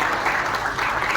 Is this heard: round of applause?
yes